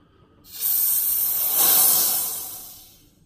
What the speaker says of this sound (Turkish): Şimdi de gazını alacağım. O basınçtan dolayı bir gaz birikti içerisine.